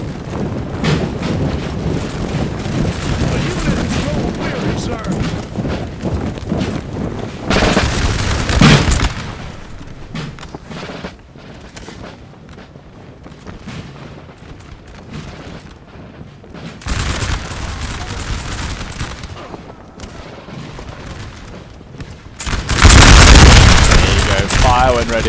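Musket volleys crackle and boom across a Napoleonic battlefield in a multiplayer strategy game, the massed fire rolling on continuously under a rushing wind-like roar, with heavier loud bursts near the start and end.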